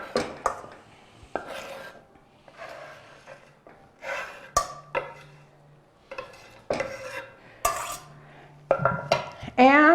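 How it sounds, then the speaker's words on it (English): Chopped onions go into a pan and get stirred with a utensil, making a string of close clattering scrapes and knocks in uneven bursts, with quiet pauses between them. "So we get the onions into the pan."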